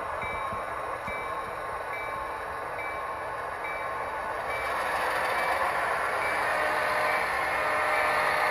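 A Milwaukee Road freight train moves boxcars with a steady rumble and metallic hum that slowly grows louder as the cars approach, with no voices.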